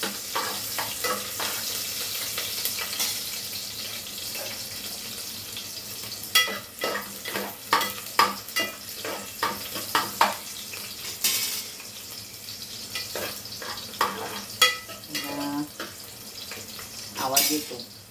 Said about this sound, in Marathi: स्टीलचे चमचे वापरले ना मग आवाज येतो थोडा.